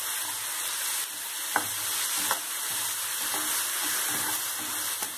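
Tomatoes for boondi sabji sauté in a hot pan with a continuous soft sizzle, broken by a few sharp clicks of a spoon or spatula, no talking.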